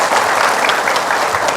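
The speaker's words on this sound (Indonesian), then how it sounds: "tepuk tangan dong untuk Ustaz Albar." Studio audience applause on a televised Islamic talk show, a dense, loud burst of many hands clapping at once that holds steady without voices.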